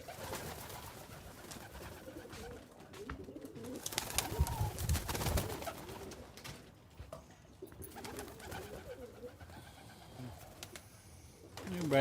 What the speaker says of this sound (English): So these are our good pigeon friends.